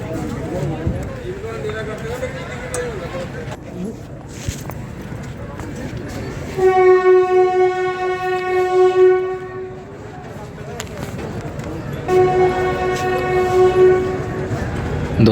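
A DEMU passenger train stands at a small Delhi-division station near Saharanpur and sounds two long, loud horn blasts over rumbling engine and platform noise, with a person talking throughout.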